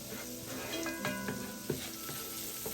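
Green beans sauté in butter in a pot, giving a steady close sizzle with light scraping and clinks of stirring throughout.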